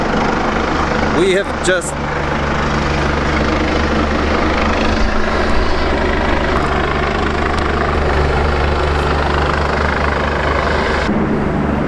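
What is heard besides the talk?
medical helicopter flying overhead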